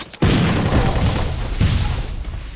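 A loud bomb blast erupts in the mobile battle game Free Fire, a sudden heavy boom followed by a sustained rumbling roar that swells again briefly before fading slightly.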